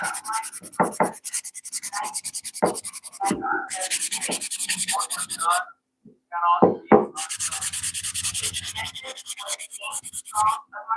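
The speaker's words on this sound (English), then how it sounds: "Man, that maple just does not want to sand." Maple wood is sanded by hand in a cold woodworking shop, making steady close rasping strokes in long sustained passes, broken by a brief pause near the middle.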